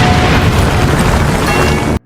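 A loud, sustained blast as an RPG rocket strikes a church in a film, a dense roaring explosion filling the whole moment before cutting off abruptly.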